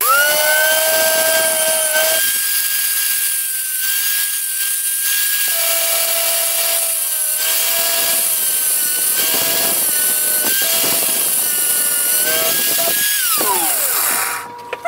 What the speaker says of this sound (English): Let me go get a grinder.